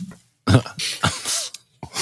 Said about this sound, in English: I'm still coughing, man.